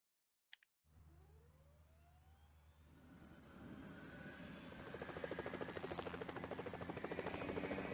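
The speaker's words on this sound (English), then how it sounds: "Firefighting helicopter." A firefighting helicopter's rotor thrum builds steadily from a distant whine to a loud, close, pulsing chop over several seconds.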